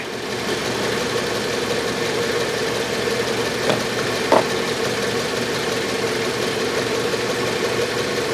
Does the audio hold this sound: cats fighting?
no